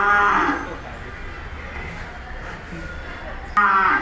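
Large cattle at an Old Dhaka cattle farm moo loudly and close by at the start, then the calls drop away before another strong moo near the end, with people's voices and crowd murmur underneath.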